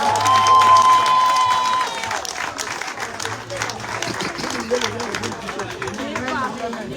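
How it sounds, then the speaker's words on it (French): Crowd applause and cheering at a public event in Lambaréné greeting a doctor, loud and dense at first, then fading into a busy murmur of voices and calls with a steady crowd hubbub underneath. "Nous allons accueillir le docteur Iloko Boussengi Stéphane sur vos acclamations."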